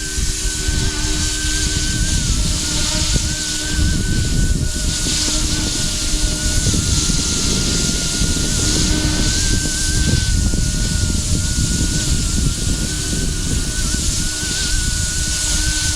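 A Yu Xiang F11-N Apache RC helicopter in a desert paint scheme flies over winter grass, giving a continuous loud whirring drone with a thin motor whine riding on top, steady and unbroken with no talk.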